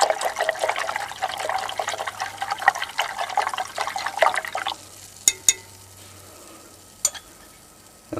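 A sterling silver refining solution being stirred in a sodium formate reduction, a close, swirling liquid slosh for several seconds. It then settles to quiet with a few sharp clinks of the stirrer against the container.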